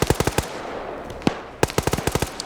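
Rapid bursts of automatic gunfire crackle in a modern-warfare video game match, loud and close, with several quick volleys separated by a brief lull and a lone shot in between.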